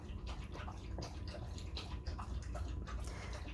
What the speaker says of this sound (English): So Esme Rosa, excuse my dog is drinking water.